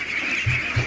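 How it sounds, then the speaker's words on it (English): A flock of domestic ducks quacking together near a pen, giving a short burst of dense, overlapping nasal calls with two low thumps under it. "Just look at this, they're a mess of ducks."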